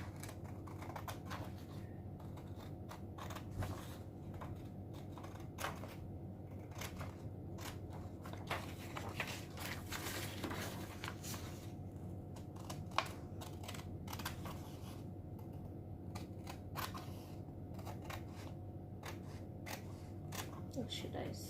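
Scissors snipping through bag material for a structured designer bag, a run of faint crisp cuts at close range under a person's talking.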